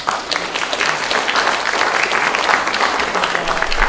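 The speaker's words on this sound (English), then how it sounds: "big round of applause for them" Audience at an evening talk event claps for the bar and food staff, a lively, fairly loud burst of many hands clapping steadily for a few seconds.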